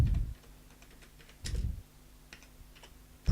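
Computer keyboard keys are tapped in a few short, sparse clicks as a command is entered, close and quiet with pauses between.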